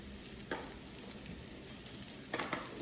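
Shiitake mushrooms fry in a pan with a steady, soft sizzle, broken by a couple of brief stirring scrapes.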